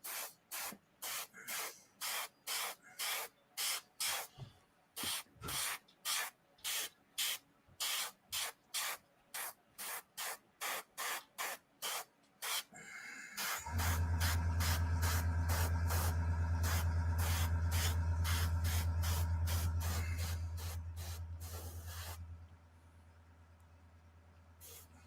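Airbrush sprays paint in a long series of short hissing bursts, then one sustained spray alongside a low compressor hum before falling quiet.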